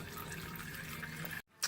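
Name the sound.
dirty Honda Pilot transmission fluid poured into measuring container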